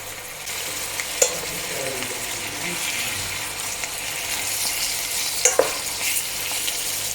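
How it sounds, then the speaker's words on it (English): Ginger, garlic and tomato fry in a pan with a steady, bright sizzle, while a utensil stirs and scrapes through them and gives a couple of sharp clacks against the pan. "I'm just going to brown this all of these ingredients"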